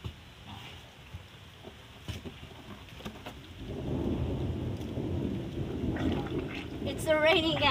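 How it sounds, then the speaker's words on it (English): Rain picks up partway through into a steady outdoor hiss alongside thunder, while a voice rises briefly near the end. "It's raining, guys."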